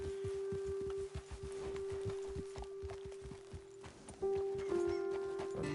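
Horse hooves clip-clop at a steady walking rhythm in Red Dead Redemption 2, close and distinct, over a sustained musical tone, with a brief whinny-like sound near the end.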